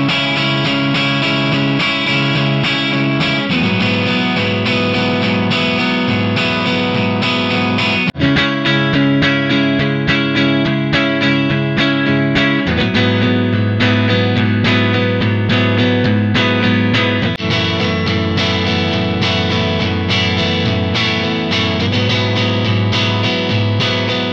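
Electric guitar played through amp-modeling plugin tones, a dense distorted and chorused sound held continuously, with chord changes and shifts in tone at several points.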